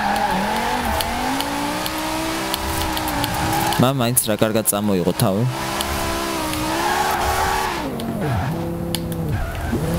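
A BMW M5 E60 drifts in a snowy winter setting in Forza Horizon 4, its engine revving and wavering while tires squeal in a sharp rippling burst midway, with a person talking over the game sound.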